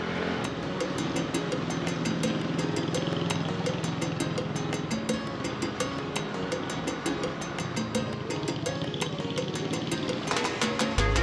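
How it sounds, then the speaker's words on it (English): A rented motorbike engine hums steadily while riding through Las Terrenas, Dominican Republic, with road and wind noise mixed in and a brief rise near the end. "we rented a motorbike here in Las Terrenas, we're gonna just drive you around"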